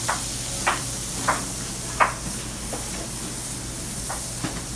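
A beef patty sizzles on a griddle just after flipping: a steady soft hiss underlies a handful of brief scraping clicks from a spatula, close and moderately loud.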